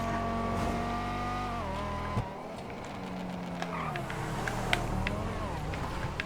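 Bravado Banshee 900R supercar in a video game revs with a smooth, moderately loud engine tone that drops in pitch as it shifts, with brief tire squeal and scattered clicks.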